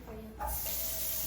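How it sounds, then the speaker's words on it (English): Tap water runs steadily into a sink as hands are washed, a soft continuous hiss that swells after a quieter opening moment. "I'll go ahead and wash my hands"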